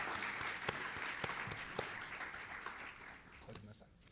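Faint audience applause at a show honoring a vedette, scattered claps under a steady crowd wash with a voice talking over it, fading toward the end.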